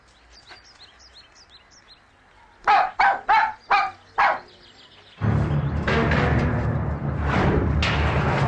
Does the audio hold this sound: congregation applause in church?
no